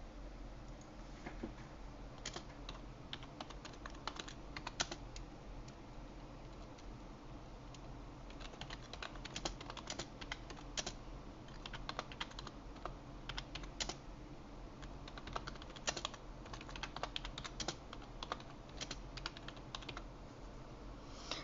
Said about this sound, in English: pressing on the keyboard, whatever is on my mind right now.